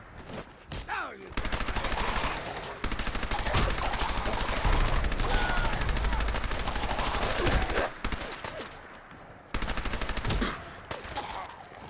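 Sustained automatic gunfire in the Fallout 4 video game, long rapid bursts of loud, close shots broken by brief pauses, with one last burst near the end.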